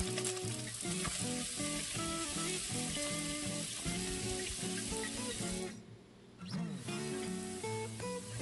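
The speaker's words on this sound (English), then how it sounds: "I then start by sauteing the ginger." Ginger sizzles and sputters loudly in hot cooking oil in a pan, a dense crackling fry that runs steadily with stirring clatter and dips briefly once near the end.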